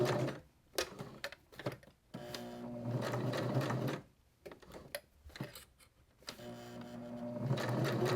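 A sewing machine stitches around a fabric heart in bursts of rapid, loud whirring, stopping in short gaps where the needle is left down and the fabric turned, with no voices.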